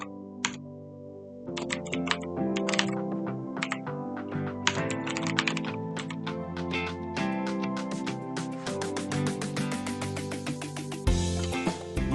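A computer keyboard clatters as a command is typed into an administrator command prompt on Windows, steady rapid keystrokes running for about twelve seconds over a faint background hum, with no voices.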